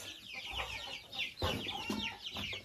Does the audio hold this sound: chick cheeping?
yes